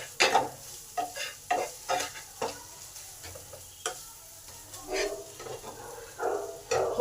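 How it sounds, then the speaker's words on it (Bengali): Turmeric and chili powder are stir-fried into masala in a pan for an omelette curry, with a soft sizzle under repeated scraping strokes of a spatula at a steady, uneven rhythm, close and fairly quiet. "এবার এই হলুদ আর লঙ্কাটাকেও এর সঙ্গে ভালো করে কষে নেব"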